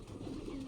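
Imported Lalpori high-flying pigeons give a brief, low, steady coo close by, alone without voices.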